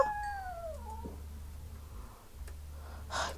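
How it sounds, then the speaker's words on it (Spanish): Inside a survival video game, a kitten gives one clear falling meow. A few soft snorts and breathy puffs follow, then a brief hiss near the end, all faint and without talk. "Me duele mucho capturar a los gatitos."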